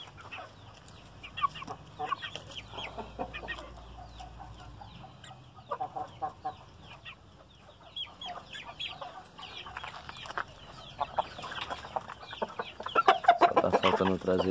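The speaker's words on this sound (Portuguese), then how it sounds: "o galo polaco, galinha cinza, essa galinha aí comum dos gravão" Chickens, including a Polish rooster and a gray hen, cluck repeatedly at close range, with a rooster's call rising near the end amid rustling farmyard noise.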